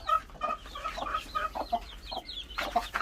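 Several chickens cluck and murmur close by in a busy, continuous chatter with short bursts of louder clucks.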